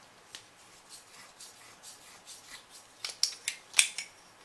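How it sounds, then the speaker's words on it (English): A pipe cutter turns around a copper pipe for an outdoor faucet, giving faint rhythmic scraping rasps that grow into sharper, louder metallic squeaks near the end, with no voices. "you want to make sure on your first couple of turns that your groove, that the cutter follows the groove every time"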